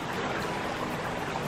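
A small creek off a mountain near a campsite at Mount Buller, Victoria, flows with a steady, close-up babbling and trickling wash, continuous and even throughout.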